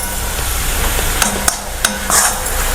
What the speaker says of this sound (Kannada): ಈಗಲ್ಲ ಅದು ಸ್ಟಫ್ ಮಾಡಲಿಕ್ಕೆ ಅದಕ್ಕೆ ಫ್ರೈ ಮಾಡ್ಕೊಳ್ತಿದ್ದೇನೆ